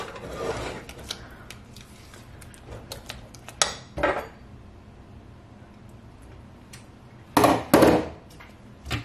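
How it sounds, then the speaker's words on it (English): Spoon scraping and clinking against a pot and glass jars as homemade apple butter is stirred and canned, with scattered metallic scrapes and a few louder clattering bursts near the end. "I'm going to stir this up and put it in jars."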